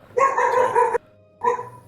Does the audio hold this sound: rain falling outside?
no